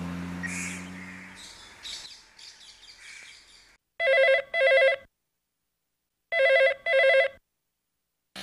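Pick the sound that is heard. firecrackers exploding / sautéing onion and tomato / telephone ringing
telephone ringing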